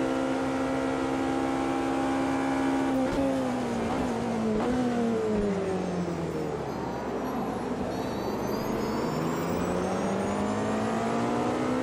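A race car accelerates at night at Le Mans in the Automobilista 2 racing game, its engine note rising steadily and loudly through the gears, with a shift dip and then a renewed climb.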